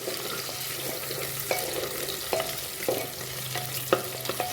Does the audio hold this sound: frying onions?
yes